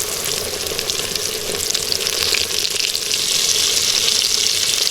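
Cube steaks frying in hot oil in a pan for chicken fried steak, a steady close sizzle and crackle that holds evenly throughout with no talking.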